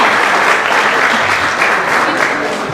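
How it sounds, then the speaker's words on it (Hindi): Crowd applause at a Realme 14T phone launch, loud and continuous, many people clapping together in a dense, even roar that barely dips over nearly three seconds. "चलिए एक और बार तालियां बजा दीजिए."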